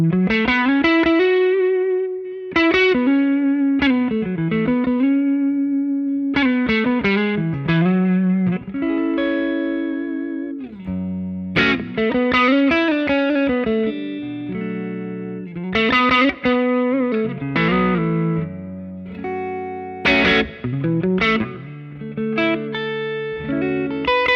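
A PRS Modern Eagle V electric guitar on the neck pickup, with a warm, rounded tone, plays a flowing melodic line, notes sustaining and sliding, with light effects coloring the sound.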